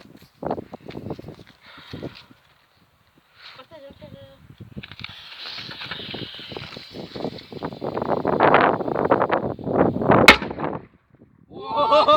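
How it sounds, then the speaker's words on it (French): A firecracker explodes in a manhole with a sharp bang amid excited voices and wind noise, lifting the manhole cover, followed by scattered clatter and shouting. "on fait une bonne explosion"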